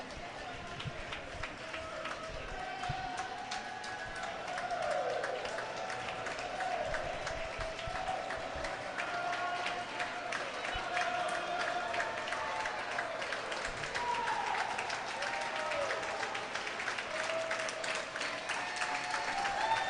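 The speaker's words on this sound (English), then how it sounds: "And Wade rounds it out with much applause." Crowd applause and cheering at the finish of a swimming race, a steady broad wash of clapping that holds throughout under an announcer's voice.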